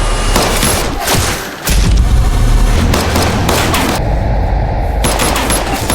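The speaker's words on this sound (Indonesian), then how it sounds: "Cici mengambil langkah berani dengan menembak Li, namun dia juga terkena tembakan oleh Xiang" Loud, dense bursts of gunfire and booms over a constant roaring background, crackling shots overlapping with barely any pause.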